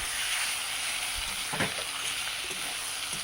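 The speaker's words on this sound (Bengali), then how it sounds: "একটু হালকা করে ভেজে নেব।" Fish roe frying lightly in hot oil and fat, a steady close sizzle and crackle with a few soft stirring scrapes partway through.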